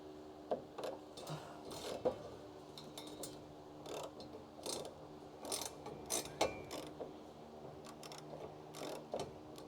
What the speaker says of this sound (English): Let me just tighten this thing back up so I don't lose the nut.